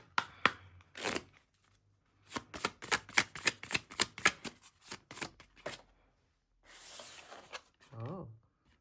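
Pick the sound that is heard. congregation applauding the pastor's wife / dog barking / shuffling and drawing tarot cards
shuffling and drawing tarot cards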